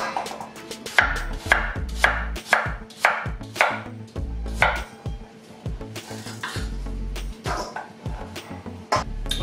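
A knife chops vegetables into small pieces on a cutting board for quinoa tabbouleh, a run of quick, close, sharp knocks in an uneven rhythm with brief pauses, loud and with no talk.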